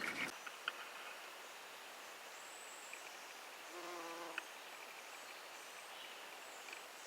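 A bee buzzes in a garden, a faint steady drone with a brief rising hum near the middle, set against quiet outdoor ambience.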